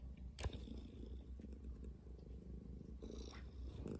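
A pet cat named Lexi purring in a steady, continuous low rumble, close to the microphone, with a brief scrape or bump early on and no talking.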